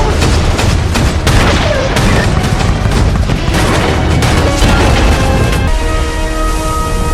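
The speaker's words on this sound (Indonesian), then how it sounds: "Lalu tembak-menembak pun terjadi dan rudal dari kapal selam musuh" Gunfire between a World War II warship and an enemy submarine in the war film Greyhound: a dense, loud barrage of shots and booms that roars continuously without a break.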